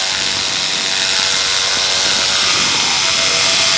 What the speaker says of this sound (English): richen the engine a bit, make it a bit easier